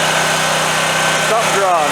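A Scag mower engine idles nearby with a steady, even low throb and mechanical rattle, while a voice talks over it.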